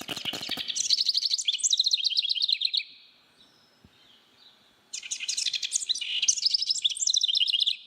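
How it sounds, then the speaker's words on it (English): A house wren gives loud, rapid chattering trills near the listener, one long bubbling burst, then a short pause, then another extended run of scolding chatter. "the house wren, also known as the Jenny wren. She's the chitter-chattery little bird."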